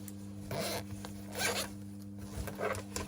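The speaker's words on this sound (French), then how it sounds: "Nous allons ouvrir également la fermeture éclair." A zipper on sewn fabric lining is pulled open in several short rasping bursts, close and fairly clear over a steady low hum in the background.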